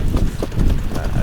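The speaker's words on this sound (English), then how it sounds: "these better mares, these better horses" Rhythmic hoofbeats of a trotter horse trotting, steady and fairly close, with some low rumble of movement around them.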